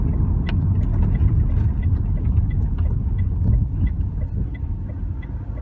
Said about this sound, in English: I'm going to pull over in this parking space